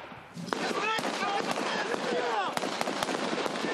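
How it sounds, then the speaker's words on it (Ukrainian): Explosions and sharp bangs burst repeatedly during a military training obstacle course, dense cracks and booms overlapping at close range, while shouting voices are heard amid the blasts. "Усе під канонаду вибухів"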